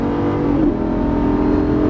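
A Lamborghini Gallardo 530 hp accelerates on a racetrack, its engine producing a loud, steady, close droning roar with a slowly rising pitch and no voices.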